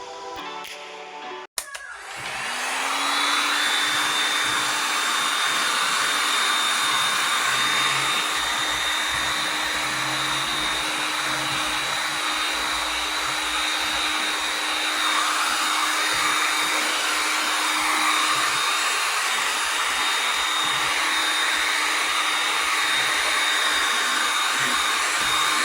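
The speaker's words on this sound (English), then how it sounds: "So when using a heat gun, I've learned that you cannot blow this thing out because it's heat." A handheld heat gun, used on a gift basket bag, blows hot air in a loud, steady whoosh with a faint whine, starting after a click and continuing without a break.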